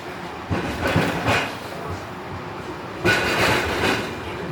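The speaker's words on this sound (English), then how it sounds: "Train departing." Train pulling away from a station platform in Portland, a steady rumble of rolling carriages with rhythmic clatter that swells at the start and again toward the end, close and fairly loud.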